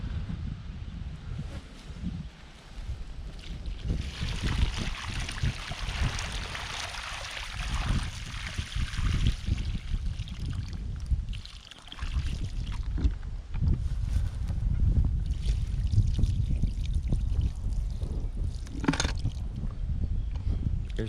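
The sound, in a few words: liquid and skull bones dumped from a container onto a sheet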